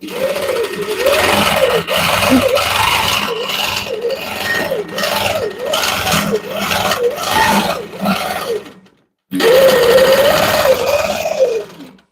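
Sewing machine stitching dense quilting on a small quilt, its motor buzzing loud and close in repeated rising-and-falling runs, with one brief full stop near the end before stitching resumes.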